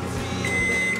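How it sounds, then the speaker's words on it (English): A microwave oven runs while heating Peeps marshmallow candies, giving a steady, fairly loud mechanical hum with a thin high whine partway through. Nothing is heard over it. "The microwave's gonna stop."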